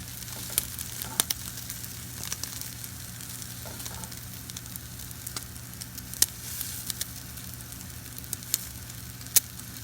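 Cheesesteak sub filling with melting cheese fries on a hot griddle, a steady close sizzle with scattered pops and crackles throughout.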